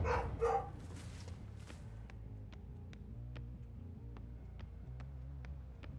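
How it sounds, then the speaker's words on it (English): A dog barks repeatedly from downstairs in a house, sharp, evenly spaced barks sounding somewhat distant and muffled, under a steady low hum, with a brief louder burst of sound near the start. "My dog's downstairs barking."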